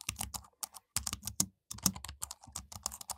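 Foley recording of a computer keyboard, with spacebar presses, gives crisp, close taps in irregular bursts separated by short silent pauses.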